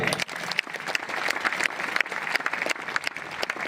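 Crowd clapping at a Republic Day gathering in Rourkela, a dense burst of hand claps filling the short span, moderately loud and even.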